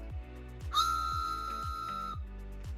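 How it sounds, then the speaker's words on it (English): A wooden train whistle, a wrestling merchandise item, blows one sustained, breathy chord-like tone for over a second, with a rhythmic low chugging pulse throughout. "A wooden train whistle."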